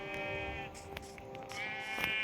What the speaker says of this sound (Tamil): அந்த ஆடு எங்கே போயிருக்கும்?